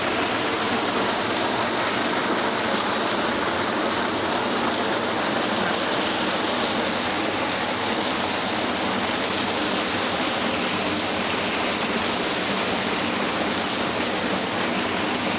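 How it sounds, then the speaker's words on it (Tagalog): Tatiao Falls in Silang, Cavite, roars as a loud, unbroken rush of falling water from inside the cave beneath it, with no voices. "Ito yung ilalim ng falls. Nasa loob tayo ng kuweba."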